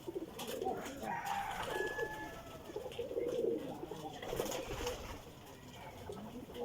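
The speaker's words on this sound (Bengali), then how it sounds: "দেখুন, হাই ঘুঘু পাখি" Doves coo softly in the background while being fed, the sound faint and distant under rustling and handling noises, with a few short calls scattered across the stretch.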